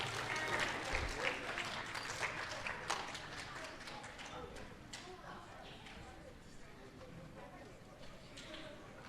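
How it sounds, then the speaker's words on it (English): Sustained applause from a crowd, dense and steady clapping that gradually thins out slightly toward the end, with some voices underneath. "a big round of applause"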